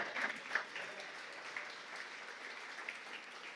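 Soft, distant applause from a church congregation during a Spanish-language sermon, a faint continuous patter of clapping with a couple of sharper claps early on.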